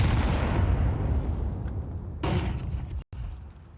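Stacked grenades detonating in Counter-Strike during a competitive match on Overpass: a loud, close roar of overlapping blasts that slowly decays, then a second sharp explosion burst near the end.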